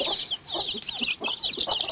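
Broody hen with her chicks at a backyard coop, clucking close by in short repeated bursts while high chick peeps chirp almost continuously over them.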